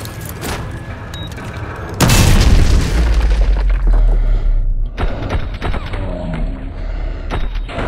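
A door breach charge detonates in Call of Duty: Modern Warfare 2 Remastered, a sudden loud, deep boom that cuts in partway through and rumbles on, followed by scattered gunfire and thuds.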